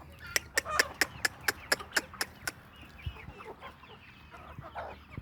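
Chickens give sharp, rapid alarm clucks in a farmyard after spotting a mongoose, about ten loud, evenly spaced calls, then fainter scattered clucking and rustling nearby.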